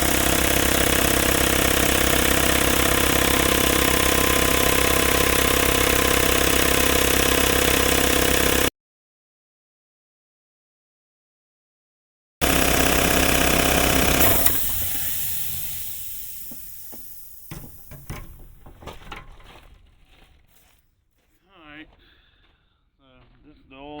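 A Craftsman 5 horsepower, 20 gallon air compressor runs loudly and steadily with a broadband motor drone and hiss, cuts out briefly, then restarts and gradually winds down into sputtering, uneven noises.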